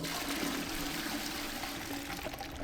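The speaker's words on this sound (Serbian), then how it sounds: "Što pustili vodu?" A toilet flushes in the video game Hogwarts Legacy, a steady rushing gush of water that runs throughout at moderate volume with no voices.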